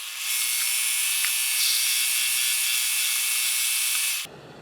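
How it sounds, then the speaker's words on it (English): A drill bores an 11/32 clearance hole in a lathe part for a collet closer, giving a steady, loud high-pitched whirring and cutting hiss for about four seconds before it abruptly stops. "put the drill back in, and use the drill to line up the hole."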